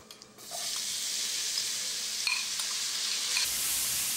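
Onions for a vegetable korma hit a hot pan and fry with a steady, loud broadband sizzle that starts abruptly after a brief quiet moment and holds evenly, with faint stirring clinks.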